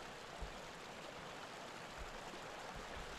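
Sewer water flows in the game Clandestinity of Elsie, a steady broadband rushing wash with faint low thumps, continuous and fairly quiet, with no talking.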